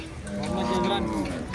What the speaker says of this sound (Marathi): पाठीमागं तुम्ही बघू शकता खूप मोठा असा बैल बाजार असतो.